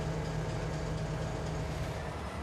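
A train rolls along the track in the Farming Simulator game, giving a steady, dense low rumble that stays loud and even throughout with no talk over it.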